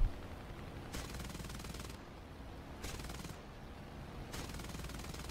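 Aircraft machine gun bursts in the War Thunder flight combat video game, fired at an enemy plane: faint, dense rattling that swells in repeated bursts of about a second each over steady engine drone.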